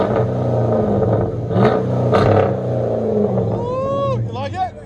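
A cammed 2005 Chrysler 300C with a 5.7L HEMI V8 and true dual Flowmaster Outlaw exhaust rumbles at a choppy idle with a rising rev near the end, under loud talk nearby.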